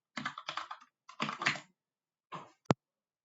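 Keys clack on a computer keyboard in a few quick, close bursts, ending with one sharp keystroke, in a quiet room while vi editor commands are typed.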